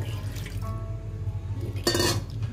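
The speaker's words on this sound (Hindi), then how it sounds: "थोड़ा थोड़ा करके इसके अंदर में ठंडा पानी डालती जाऊंगी।" Cold water trickles and drips into cream being gathered by hand while making ghee, a soft liquid splashing under a low background hum, with a brighter pour or splash near the end.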